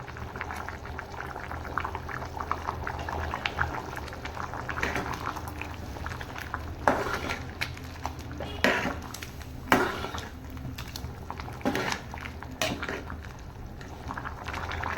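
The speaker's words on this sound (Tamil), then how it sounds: "நம்மளோட குழம்பு வேகறதுக்கு வந்துருச்சு" Cowpea and brinjal curry simmering in a pot, a steady bubbling and soft popping with occasional louder splutters and clinks, close and continuous with no voices.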